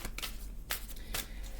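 Tarot cards are shuffled by hand, close and crisp, with quick riffling bursts and soft slaps repeating several times over a low background.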